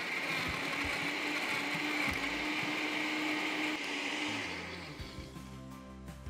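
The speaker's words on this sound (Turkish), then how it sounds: "Blender'ımızın içindeki tüm malzemeler pürüzsüz bir kıvama geldiğinde alıyoruz ve sunuma hazır oluyor artık." A blender whirs loudly and steadily as it blends a carrot and green apple smoothie with ice, then winds down near the end as the motor slows.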